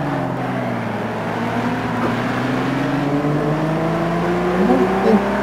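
Ferrari 250 GT engine in a racing video game, droning and shifting pitch under heavy braking, steady and fairly loud with tones gliding down then rising slightly near the end.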